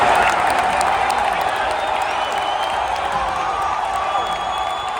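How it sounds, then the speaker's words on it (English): A playoff hockey crowd in a Washington arena during a Capitals game against Carolina cheers and applauds in a dense, sustained roar, with scattered whoops and nearby voices talking through it. "There's playoff crowd."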